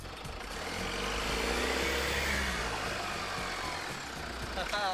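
A car pulls away from soft beach sand after an exhaust jack has lifted it free, its engine droning loud and steady throughout, with wind and surrounding rumble.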